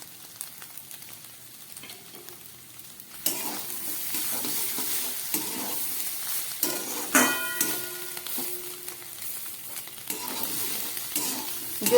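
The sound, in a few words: vegetables with egg frying and being stirred in a pan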